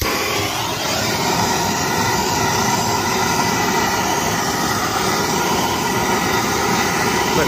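A torch flame roars steadily and loudly, close up, as it heats a stuck hydraulic piston on a 1962 C10 pickup. The broad hiss continues unbroken throughout with no talking.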